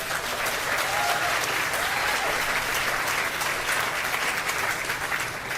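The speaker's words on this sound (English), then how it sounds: "Clap for that too." Sustained applause from an audience at a new hospital groundbreaking ceremony, a continuous, full crowd clapping texture at steady loudness throughout.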